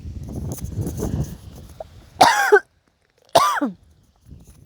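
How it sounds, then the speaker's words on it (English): Two sharp coughs close to the listener, a second apart, following a stretch of soft shuffling and movement noise. "I just had to cough"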